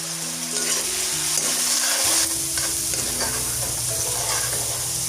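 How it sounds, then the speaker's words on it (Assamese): Ginger, garlic and onion paste sizzles in hot mustard oil over a medium flame, a loud, close, continuous frying hiss with occasional stirring scrapes and no voices. "এতিয়া ভাজি ল'ম"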